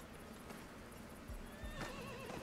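Horse neighs and whinnies in the Desperados III video game, set over a busy ambient game soundscape with faint hoof clops, moderately loud with no talk.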